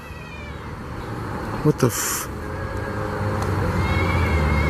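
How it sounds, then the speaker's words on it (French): Near a campsite, a short cat-like cry rings out, brief and fairly close, over a steady outdoor rumble, followed by a startled voice. "Ils imitaient de façon troublante les cris angoissés d'un chat."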